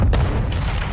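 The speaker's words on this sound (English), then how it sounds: "Set a charge on the target and detonate it." A detonated charge in a ranked online shooter video game goes off as one loud, close, deep boom that rumbles briefly and fades.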